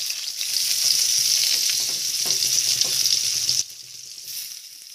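Potatoes and chopped vegetable stalks fry in hot oil with a loud, steady, close hiss that cuts off abruptly and drops to a quieter simmer.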